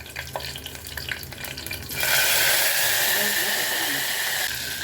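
Bay leaf, cinnamon, cloves, green chillies and onion frying in hot oil for biryani, a soft crackle that swells into a loud steady sizzle as the onion goes into the pan, with a voice faintly underneath.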